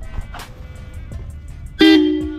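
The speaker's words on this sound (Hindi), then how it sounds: "इसमें एक हॉर्न भी लगवा रखा है, और ये मेरे साथ बहुत लाउड होगा, एक बार इसको बजा कर देखते हैं।" A Jawa Bobber 42 motorcycle horn sounds one loud, bright honk late in the clip after a stretch of quieter background noise and handling sounds, and the honk then tails off.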